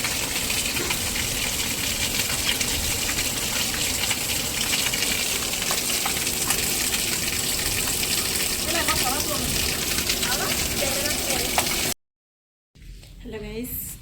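Rain pours down hard behind a house in the monsoon, a loud, dense, unbroken roar of falling water close by. It cuts out abruptly near the end, and then a quieter stretch of noise follows.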